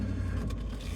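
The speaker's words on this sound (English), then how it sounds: "I got cars coming both ways" Cars passing on a busy two-way road beside a truck hauling sawdust on a muddy site, a brief steady rumble of traffic close by.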